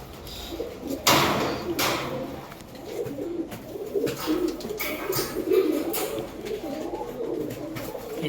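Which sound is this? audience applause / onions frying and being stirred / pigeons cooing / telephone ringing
pigeons cooing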